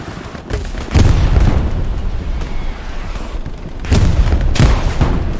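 Gunfire and explosions in the WWII shooter Hell Let Loose, dense booming bursts and rumbling blasts, loud and layered, with heavy impacts around one and four seconds.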